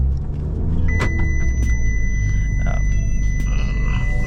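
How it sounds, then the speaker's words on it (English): A seatbelt warning chime in a Fiat 500 Abarth with a manual gearbox holds steady, thin tones over a loud, close engine rumble, with a few sharp clicks scattered through. "That's my seatbelt warning."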